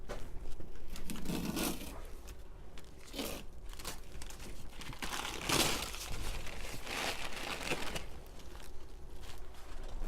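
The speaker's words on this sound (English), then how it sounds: "that's taking the masking tape off" Masking tape being peeled off a freshly painted Panda car after a windscreen refit: papery ripping and crinkling in several separate pulls, fairly close, over a low background hum.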